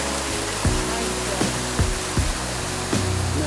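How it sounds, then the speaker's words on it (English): Steady broadband rush of a waterfall beside a hidden pool, a constant close roar with a few brief bumps and low tonal hum layered underneath. "behind this waterfall."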